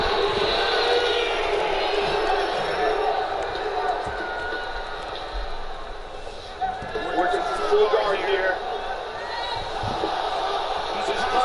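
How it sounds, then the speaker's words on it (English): A crowd cheers and chatters through a fight in the video game UFC 2, a continuous arena roar under steady commentary. "Crowd hoping that Condit gets knocked out here clearly"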